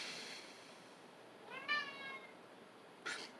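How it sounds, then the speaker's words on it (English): Indoor house cat giving one clear, drawn-out meow midway, close but fairly soft, with brief faint rustles before and after in a quiet room. "that's my cat."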